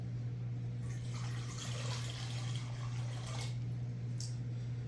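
Four cups of water pour steadily into a container for a whitefish brine, a continuous close splashing trickle over a low constant hum.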